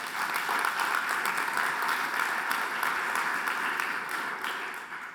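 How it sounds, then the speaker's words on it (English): An audience applauds steadily after an app demonstration at a showcase event, a dense, even roar of clapping that holds level for several seconds before easing slightly at the end. "Can we have some applause for Rowan's app,"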